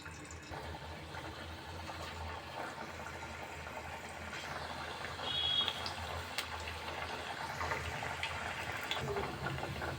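Cabbage vada batter fries in medium-hot oil, giving a soft, continuous bubbling hiss that swells a little louder partway through and then stays steady, close and without voices.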